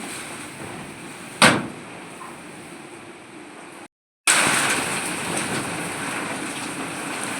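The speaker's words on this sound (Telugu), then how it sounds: "వాన కూడా స్టార్ట్ అయ్యింది" Steady rain hiss during a strong windstorm fills the scene, broken by a sharp knock early on and a brief dropout of silence before the rain resumes louder.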